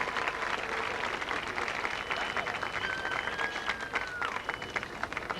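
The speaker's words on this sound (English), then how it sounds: "Firm and sympathetic applause from the spectators." Steady applause from Olympic rowing spectators at the 1992 men's coxless pairs final, continuous clapping that holds at an even level, heard from a distance.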